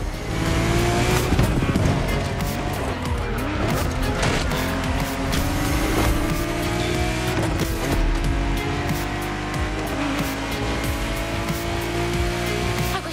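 A racing car in The Crew Motorfest roars along continuously, its engine note climbing and shifting while the tires squeal and skid again and again, loud and close throughout.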